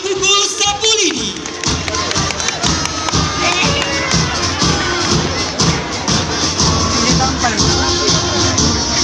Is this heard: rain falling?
no